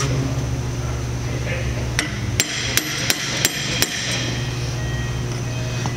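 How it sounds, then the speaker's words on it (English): Hammer and chisel knocking on a bearing housing during assembly: five or six sharp metallic strikes in quick succession midway through, close and clear over a steady low mechanical hum. "Then you want to grab a chisel and a hammer."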